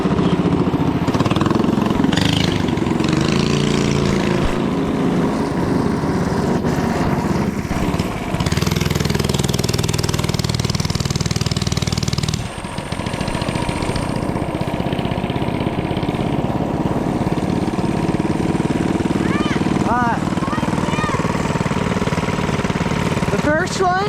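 Small gas mini bike engines racing down a neighborhood street, a loud continuous buzzing drone that rises and falls in pitch as they rev, with people talking over it.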